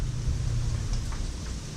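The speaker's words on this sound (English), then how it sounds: "Too late. Already raining." Steady rain pours outside an open garage as a storm rolls in, a dense, even hiss of falling water filling the whole clip, with low rumbling beneath and no talk.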